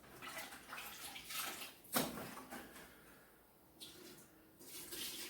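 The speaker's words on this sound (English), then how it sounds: "So just add a little water." Water poured into a concrete binding mix in a bucket, a soft splashing and gurgling pour that swells and fades in a few bursts, faint and close, with some wind noise.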